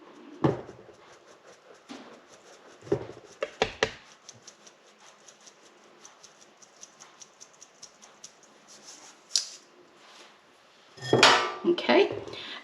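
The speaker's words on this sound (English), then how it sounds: "I'm going to sieve that in." Plain flour and baking powder sifted through a sieve into a mixing bowl, heard as scattered metallic taps and clinks of the sieve against the bowl, with a louder rattling burst near the end.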